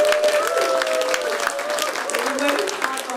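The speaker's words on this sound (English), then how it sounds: "let's give a cheer for the kitchen crew who are" An audience at a kirtan gathering breaks into sustained cheering and applause for the kitchen crew: a dense, steady wash of clapping and voices that fills the room for the whole stretch.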